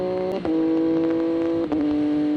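A 2023 MV Agusta F3RR triple-cylinder motorcycle engine holds a steady, buzzing tone, with two quick gear-change dips and small crackling exhaust pops, loud and close, with no talking.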